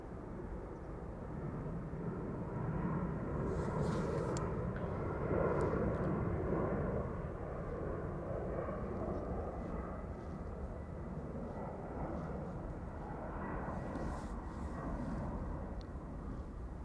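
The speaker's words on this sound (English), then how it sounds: "As the Cathay Pacific 747 to Hong Kong is taking off from center." A Cathay Pacific Boeing 747-400 freighter takes off at Amsterdam Schiphol bound for Hong Kong, its engines a distant, sustained low rumble that swells slightly and then holds steady, with no talk.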